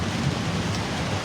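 Heavy downpour during a sudden storm, a dense, steady hiss of rain at fairly loud level with no pauses, filling the whole moment without any talking.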